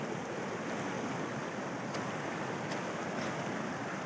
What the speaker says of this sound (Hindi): ये और ये पानी का शोर,